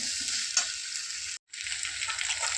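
Mixed vegetables frying with spices in a pan for a fish-head vegetable curry, a steady loud sizzle with stirring scrapes, briefly cut off mid-way before resuming.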